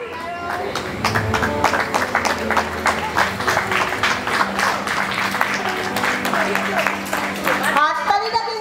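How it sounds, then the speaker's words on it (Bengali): An audience at a Durga Puja Nabami felicitation ceremony applauds with rhythmic, fairly moderate clapping, while a voice speaks over it and someone talks near the end. "হাততালিটা কিন্তু আস্তে হয়ে যাচ্ছে"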